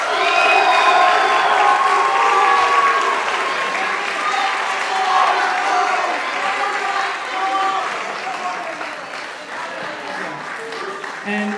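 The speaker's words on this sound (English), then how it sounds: "Can we hear a round of applause for this amazing faculty?" A crowd at a jazz summer workshop closing ceremony applauds and cheers its faculty, loud sustained clapping with shouts and whoops layered on top, gradually settling while the cheering carries on through the end.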